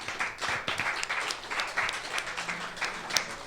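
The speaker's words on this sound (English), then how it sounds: "If we could please give your candidates a round of applause." Modest audience applause for student union election candidates after a question time event, scattered clapping heard at moderate distance and fairly quiet.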